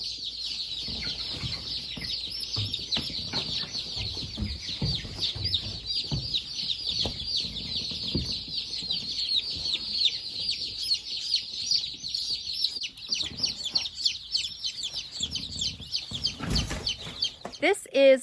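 A box of young chicks peeping continuously and densely, a bright high chorus of many overlapping cheeps, close and loud, with handling noises and people talking underneath as they are moved into a brooder box.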